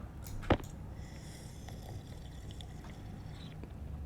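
A single short watery splash plays as a bottle is refilled with water in the Stationeers video game, over a quiet steady ambient background.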